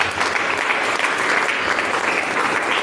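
A church congregation applauds for Jesus Christ, a dense, steady wash of clapping from many hands filling the room without a break.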